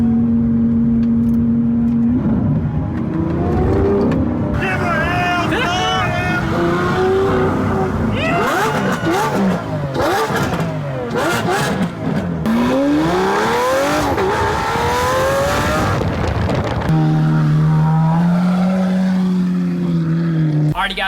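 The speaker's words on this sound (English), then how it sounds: "We're about to do a bridge pull with windows up because I think the camera might not catch how loud this thing is." Lamborghini Aventador V12 revving hard during a bridge pull with windows up, loud and sustained, pitch climbing through repeated gear sweeps and dropping back between pulls, with some talking underneath.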